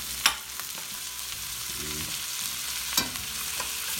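NY strip steak sizzles in a pan with butter, a steady close frying hiss with a couple of sharp clicks of a utensil against the pan.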